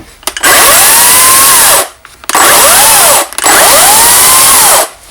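A START PRO SCSB36 cordless brushless chainsaw cutting sticks, loud and close: three high, whining bursts of motor and chain with short pauses between them, the pitch dipping and rising under load, and no talking.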